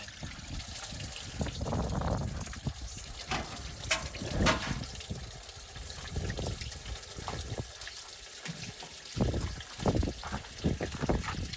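Antifreeze drains from a detached hose on a 1976 Dodge D-300 flatbed dump truck in a soft, uneven gurgling trickle with intermittent splashes, quiet and close throughout, with no speech.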